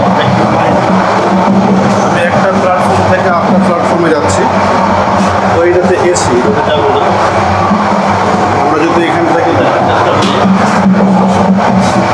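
Steady rumble and rattle fill a passenger carriage on an intercity train travelling from Dhaka toward Chittagong. A voice talks continuously over the constant, close running noise.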